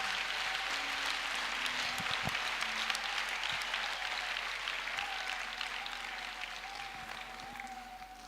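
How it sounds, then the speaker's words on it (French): A church congregation applauding, sustained clapping from many hands that continues steadily and fades slightly toward the end, with a faint held tone underneath. "Applaudis très bien le Seigneur des Seigneurs."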